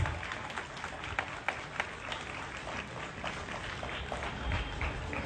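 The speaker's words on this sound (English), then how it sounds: "let's give a big hand to all the sports stars" Parents applaud the children at a play school sports day, a steady wash of clapping from a crowd that runs evenly through the moment with a few sharper individual claps standing out.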